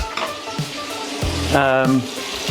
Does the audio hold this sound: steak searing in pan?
yes